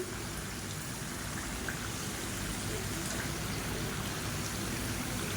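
Instant murukku, a Diwali snack, frying in hot oil and being turned on both sides, heard as a dense, continuous bubbling hiss that stays loud and even throughout, with no talking.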